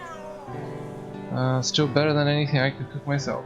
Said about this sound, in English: I should go and look why he's meowing all the time.